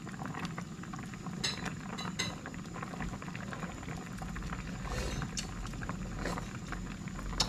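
Tilapia soup with papaya simmering in a pot outdoors, a steady low bubbling boil with occasional clinks of a utensil against the pot, close and fairly quiet with no talking.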